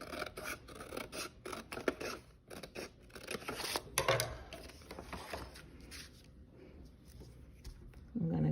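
Scissors snipping through paper for an agamograph craft, a quick run of close, crisp cuts and rustles, then a quieter stretch of paper handling.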